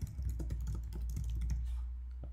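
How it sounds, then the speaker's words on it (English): Keyboard keys pressed in a quick cluster of close, soft clicks over a steady low hum, with no talking. "I press a single keyboard combination"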